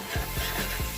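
Spicy pork ribs are stirred in a pan at home, a steady scraping rub of the utensil under a soft sizzle, repeating in a regular rhythm about every fifth of a second, close and moderately quiet.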